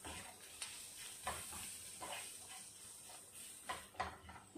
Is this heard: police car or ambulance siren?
no